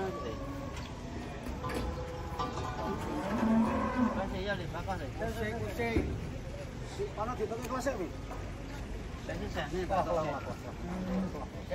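Large cattle moo repeatedly nearby as they are unloaded from a truck amid a busy outdoor background, with people talking over the lowing.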